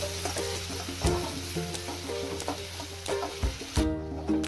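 Finely chopped onion frying in a pan over low gas, a steady soft sizzle with occasional stirring scrapes and knocks, close and continuous with no talking.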